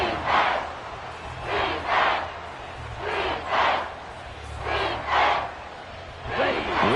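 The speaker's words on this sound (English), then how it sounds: "This crowd doing all they can." A football stadium crowd roars during a goal-line stand, sustained loud cheering and chanting with rhythmic surges, filling the space with no clear speech.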